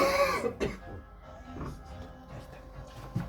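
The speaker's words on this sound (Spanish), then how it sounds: "te iba a toser ahora" A single throaty cough or throat clear bursts out at the start, followed by quieter rustling and a few soft clicks in a room.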